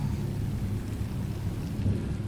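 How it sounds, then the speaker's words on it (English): Heavy rain pours in a dense, steady hiss over a deep rumbling roll of thunder at night, loud and continuous, with no voices. "The rain falls heavy."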